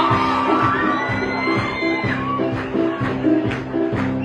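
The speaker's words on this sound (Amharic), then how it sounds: "ኧረ ጭብጨባ ይቁም!" Crowd cheering and whooping with applause at a concert at Addis Ababa University, a dense, lively mix of shouts and clapping with a voice calling out over it.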